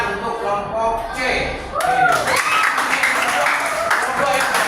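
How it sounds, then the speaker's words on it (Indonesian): Classroom applause for a student group, a steady patter of hand claps from a small class that swells after a couple of seconds and continues, with voices talking over it. "Tepuk tangan untuk kelompok C."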